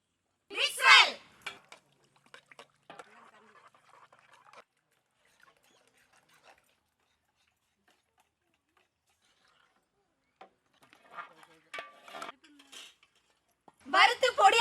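A spoon clinks against a bowl while stirring a chicken omelette egg mixture with green chillies, chilli powder, salt and chopped coriander in a village kitchen. The clinking comes in scattered, uneven bursts, louder at the start and end, with quiet stretches between.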